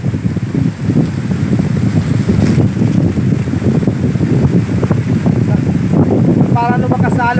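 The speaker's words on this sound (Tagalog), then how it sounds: "Ang lakas ng hangin, grabe." Strong wind high up in a balete tree buffets the microphone in a steady, heavy roar, with rustling and a brief higher chirping near the end.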